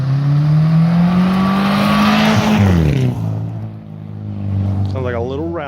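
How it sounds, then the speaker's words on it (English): A Subaru car engine revs hard and climbs in pitch as it launches, then drops and fades away. A voice speaks briefly near the end. "the Subaru is going to try a launch like the Suburban"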